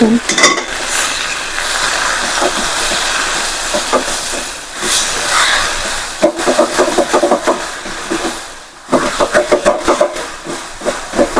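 Leafy vegetable bhaji is stirred in a hot pan for a Gujarati home-cooked sabzi. A loud, steady sizzle and hiss runs throughout, with scraping and clattering stirring strokes that grow choppier toward the end.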